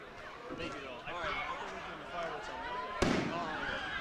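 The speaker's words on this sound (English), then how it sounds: "The fireworks are going." Fireworks crackle and pop at an outdoor baseball game, a steady rumbling barrage with one sharper burst near the end, heard at a distance beneath crowd noise.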